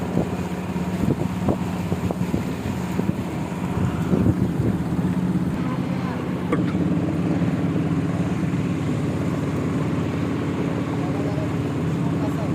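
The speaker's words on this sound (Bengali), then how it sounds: "সেই সাঙ্গু নদীতে ট্রলার নিয়ে এই প্রথম সাঙ্গু নদীর ট্রলার নিয়ে গভীরে যাওয়া" A motor trawler runs steadily along the Sangu river between hills in Bandarban, its low engine hum continuous and close, mixed with wind noise while people talk over it.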